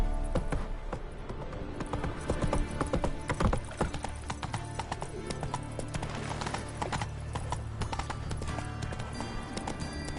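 Roach, Geralt's horse in The Witcher 3, gallops in rapid, loud clip-clop hoofbeats that carry on steadily, with a brief whinny-like sound blended in and no speech.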